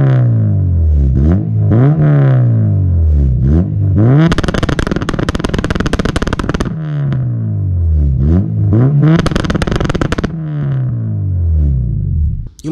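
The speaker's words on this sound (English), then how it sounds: "I just put some clips of me revving the car" An Acura RSX Type S with an aftermarket exhaust and muffler revs hard several times, each loud rise and fall separated by steady idle, with two long sustained high-rpm pulls in the middle.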